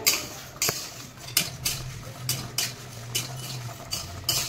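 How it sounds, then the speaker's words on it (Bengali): Sporadic scraping and clinking of a utensil stirring spices for mango pickle in a wok, with brief sharp strokes at irregular intervals and a low hum beneath, no voices. "এই আমার মশলাগুলো সব কড়াই দিয়ে দিয়েছি, আস্তে আস্তে ভাজবো।"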